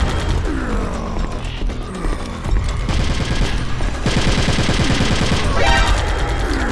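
Gunfire in the video game Metal Gear Solid: The Twin Snakes: loud, dense rapid bursts and shots with mechanical clatter, continuous through the clip.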